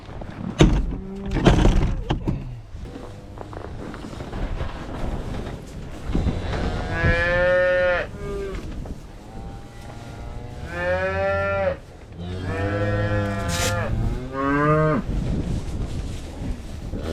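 Calves moo loudly and repeatedly at close range in a barn during a snowstorm, with drawn-out calls in several bursts over thumps and clatter from a door or gates.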